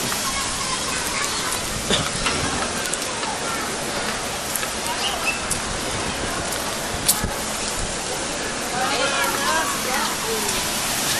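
Waves crash and wash in a continuous, loud roar of surf that fills the scene evenly, with small splashes rising out of the steady hiss.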